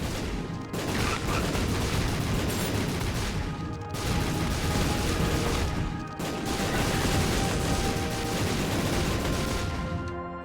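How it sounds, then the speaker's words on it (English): Loud, dense bursts of explosions and blasts in The Binding of Isaac: Repentance roar almost continuously, with two brief drops in between, no clear speech. "I'm sorry if it's impossible to hear me due to all the explosions."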